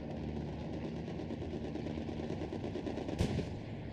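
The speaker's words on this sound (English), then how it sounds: "Strafing run coming in too." Aircraft strafing run in the WWII shooter Hell Let Loose: a distant, continuous rattle of heavy gunfire rolls on steadily, with one sharper crack near the end.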